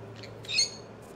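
A bird calls in the video game Cyberpunk 2077, a short bright chirping squawk that peaks mid-clip over a steady low game hum, with fainter calls before and after.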